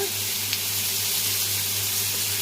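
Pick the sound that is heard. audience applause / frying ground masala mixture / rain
frying ground masala mixture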